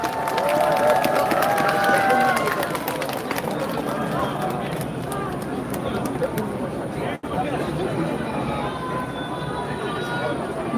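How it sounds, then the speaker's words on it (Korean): A large crowd at the launch rally of the Democratic Party's Incheon election committee roars and cheers continuously, a dense sustained wall of noise with a voice or tone audible over it early on before the din carries on to the end. "다시 한번 민주당 중앙선대위 유세단에게 큰 박수"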